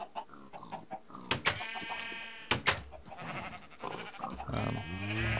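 Sheep in a Minecraft-style video game let out several wavering bleats, loud and close, mixed with grunting livestock noises and game sounds, with no talking.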